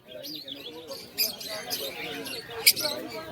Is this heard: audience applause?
no